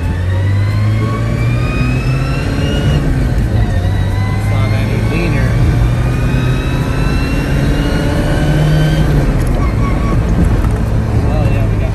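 A 1976 Toyota Celica RA2 drives along with a steady, droning engine note that rises and falls slightly with revs, loud and close, under faint road and traffic noise.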